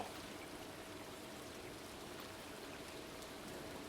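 Steady rain falls across a rainy day in the Stardew Valley video game, a constant soft hiss of drops pattering on surfaces with no voices, even and unbroken throughout.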